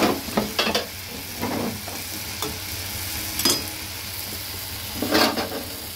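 Leafy greens cooking with a little turmeric in a pan on a gas stove: a low steady sizzle broken by several short scraping stirs of a utensil, close by, with no voices.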